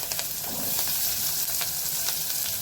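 Chopped onion hits hot oil with hing for sev tameta shaak, giving a loud, continuous bright sizzle close up, with faint scraping of a spoon stirring and no talking.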